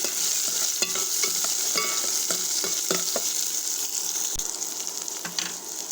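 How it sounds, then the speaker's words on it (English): Onions frying in a pan, giving a steady loud sizzle with repeated scraping taps of a spoon stirring them through the clip, no talk. "Now add onions, stir it nicely."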